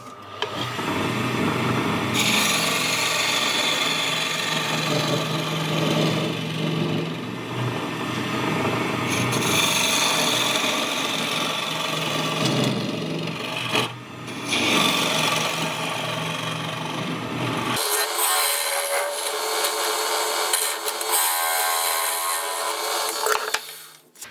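A scraper tool cuts into a wooden bowl spinning on a wood lathe, giving a steady loud rasping, rubbing noise with brief dips and a change in tone near the end.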